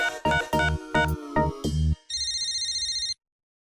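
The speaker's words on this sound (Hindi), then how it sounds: "नजमा देखो किसका फोन है।" A landline telephone rings in a home: several loud repeated electronic rings in a steady rhythm, followed by a sustained warbling tone, with no talk over it.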